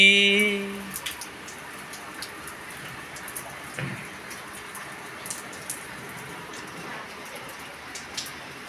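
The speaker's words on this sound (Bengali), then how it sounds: "বৃষ্টি পড়ছে, অঝোরে বৃষ্টি" Rain falls steadily as a soft, even hiss with scattered faint drips and taps, distant and quiet throughout, after a brief tonal snippet at the start.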